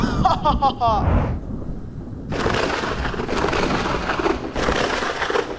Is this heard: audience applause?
no